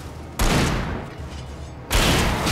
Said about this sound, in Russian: стреляй в них.